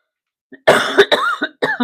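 A string of raspy coughs, close and fairly loud, in quick uneven bursts with short gaps between them.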